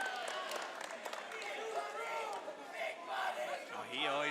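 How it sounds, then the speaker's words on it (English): A crowd at a college wrestling match, CBU versus North Dakota State, roars and cheers continuously, swelling toward the end, with commentators talking over it. "Oh, he always ignites the crowd, doesn't he?"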